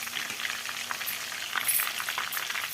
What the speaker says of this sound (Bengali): প্রথমে দিয়ে দিচ্ছি জিরে ফোড়ন